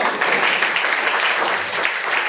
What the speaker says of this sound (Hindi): बिल्कुल, ताली बजा दो।